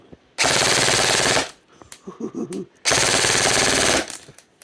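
Double Eagle UTR556 airsoft gun fires two loud full-auto bursts of about 1.5 s and 1.2 s, rapid dense rattling, with a short pause between them holding faint clicks and handling noise.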